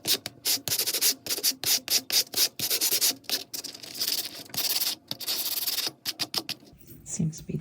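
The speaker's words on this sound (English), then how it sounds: "I've also got this coarse sand block." A coarse sand block rubs back and forth over a wire-wrapped pendant in close, rhythmic hissing strokes with short pauses between them, and a brief clatter at the end.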